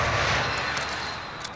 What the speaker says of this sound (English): This is Striker 3-1. Good copy. Strike inbound.